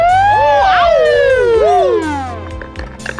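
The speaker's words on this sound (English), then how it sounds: "The siren" A loud, close police siren wails up and down, its pitch sweeping in long cycles, then trails off as background noise rises.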